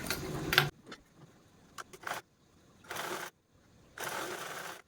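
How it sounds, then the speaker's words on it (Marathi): A sewing machine stitches a zipper together with its lining in several short bursts, with quiet pauses between the runs of stitching. "अशा पद्धतीने स्टिच करायची आणि लगेचच अस्तर पण आपण सोबतच स्टिच करून घेऊ"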